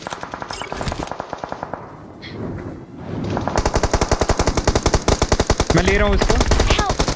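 Rapid automatic gunfire from a machine gun in the mobile battle-royale game BGMI, heard in long, dense bursts that grow louder toward the end, with someone talking excitedly over the shooting.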